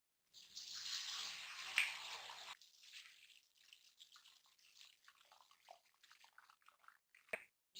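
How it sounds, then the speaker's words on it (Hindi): Rolled papdi dough dropped into hot oil for chaat, giving a loud steady sizzle and crackle for a couple of seconds, then settling into lighter, scattered bubbling and popping. "तेल मैंने गर्म होने के लिए रख दिया था। इसके अंदर अब हम ये जो पापड़ी हमने बेली है ये डालेंगे।"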